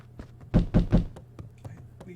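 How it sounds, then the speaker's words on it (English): A door is knocked on in a video game: three firm, evenly spaced wooden raps, close and solid, followed by a few lighter taps in a quiet room. "Somebody's knocking on the door, okay."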